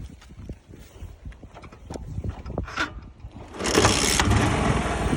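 A Honda motorcycle engine is cranked with irregular knocking and clatter, then catches and settles into a louder, steady close idle for the last second or so.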